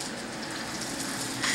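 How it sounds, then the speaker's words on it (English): Leeks sautéing in virgin olive oil in a skillet give a steady, close sizzle with a constant frying hiss and no voices. "she took some virgin olive oil and some leeks, and she's sauteing them"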